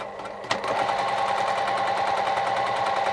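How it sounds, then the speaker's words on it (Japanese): A sewing machine runs a 5 mm edge stitch along a kimono-fabric sleeve, starting with a click and then a steady, fast, even whirring hum close by, with no talking. "ここ端っこをまた5ミリぐらいのステッチをかけます"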